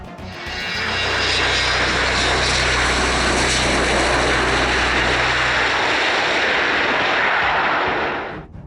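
A Boeing 757 jet roars loud and steady through its takeoff run, a broad sustained engine rush with a low rumble that drops away near the end before the noise fades out.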